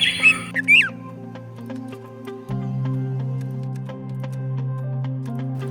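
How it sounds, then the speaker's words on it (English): A red-whiskered bulbul at dawn gives several loud, harsh squawks and whistled notes up close at the start, over a steady layer of softer background music. "At dawn, he would come to an upper branch and hear many voices and start singing."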